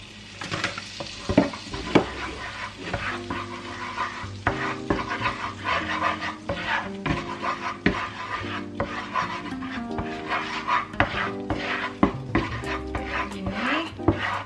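Flour being stirred into a frying pan while making IKEA-style köttbullar meatball sauce, a steady scraping and rubbing of a utensil against the pan over soft sizzling, with occasional clinks.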